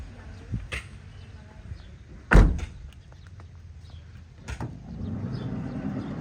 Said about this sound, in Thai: ปิดประตูรถก่อน